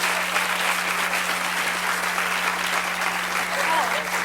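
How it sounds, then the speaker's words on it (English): Sustained studio audience applause on a daytime talk show, a dense, steady wash of many hands clapping at full strength throughout, loud and unbroken with no gaps. "Oh, that's not where they were supposed to clap."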